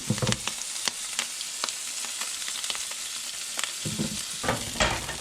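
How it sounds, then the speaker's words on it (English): Morel mushrooms frying in olive oil and butter, a steady close sizzle broken by sharp pops and crackles scattered irregularly throughout, with no voices. "the mushrooms are starting to pop, almost like Rice Krispies"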